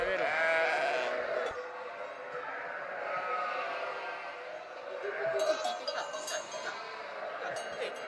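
Goats and their kids bleat on a family farm, several overlapping calls rising over a low murmur of voices and faint clinking, fairly distant and soft throughout.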